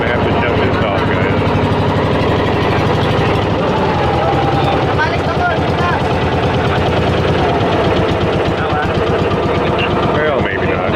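A boat engine runs loud and close on a trip out to an island, a rough continuous drone with rapid chugging pulses that holds steady throughout and never stops.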